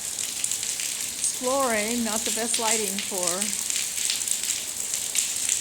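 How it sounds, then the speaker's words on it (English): Steady rain falls outside in a town in Cetinje, Montenegro, a constant broadband hiss running throughout while someone speaks briefly in the middle. "and it's raining, and it's not exactly the best weather"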